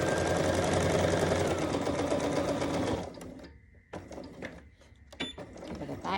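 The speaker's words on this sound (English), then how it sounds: "Let's give it a good little back stitch." A sewing machine stitches fabric for a half apron in a loud, steady run for about three seconds, then stops and gives a few short back-stitch bursts separated by quiet pauses.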